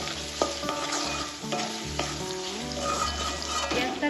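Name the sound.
chopped onion frying in oil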